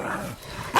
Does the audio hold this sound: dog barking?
yes